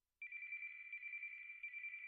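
An unplugged telephone on a kitchen counter rings with one steady, unbroken electronic tone that starts abruptly and holds to the end, faint and heard alone.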